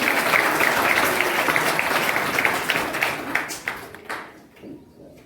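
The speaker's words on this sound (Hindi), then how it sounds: "तालियों से जोरदार स्वागत करें" A school audience gives a speaker a loud welcoming applause, a thick roar of many hands that holds steady and then thins out into a few last scattered claps.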